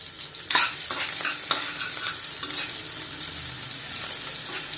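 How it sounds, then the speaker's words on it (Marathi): Green chilies and curry leaves fry in a pan with a loud, continuous sizzle, broken by sharp scrapes and knocks of a stirring spoon, with no voices. "मिरची थोडीशी परतू द्यायची मिरची परतताना थोडं मीठ घालायचं"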